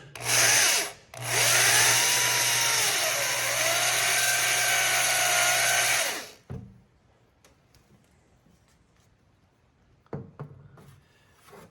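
A power drill dimples square steel tubing on the main frame of a Gleaner R72 combine: a short loud whine, a brief pause, then about five seconds of steady high-pitched drilling that changes pitch under load, followed by quiet clanks.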